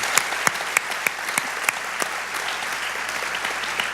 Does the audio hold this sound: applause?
yes